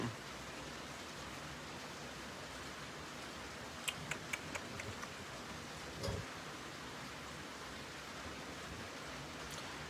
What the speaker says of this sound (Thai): ฝนตกครับ พี่น้องฝนตก